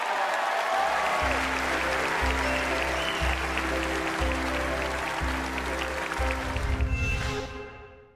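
Sustained applause from a sizable crowd at the Oscars ceremony, steady and full, with a low pulsing hum underneath, fading out at the end.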